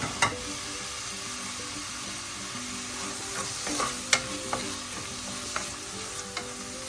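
Green chillies and tomatoes being sautéed in a pan for a tuna fish curry, a steady low sizzle and frying hiss with occasional sharp clinks and scrapes of a spoon stirring, close and without talk.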